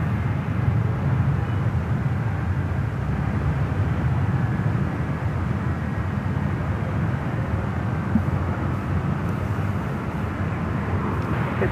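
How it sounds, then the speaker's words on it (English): A United Airlines A319 airliner arriving at SFO from Austin, Texas, heard as a steady, continuous broadband roar of engine and airflow that holds at an even level throughout, with no speech over it. "On the right-hand side, an A319 coming in from Austin, Texas, United Airlines flight"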